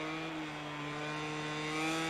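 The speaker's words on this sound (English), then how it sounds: "I can hear a bike idling." A motorcycle idles in the racing video game MotoGP 22 at the Aragon circuit, a steady, even engine hum that holds a constant pitch and fills the short clip without talk.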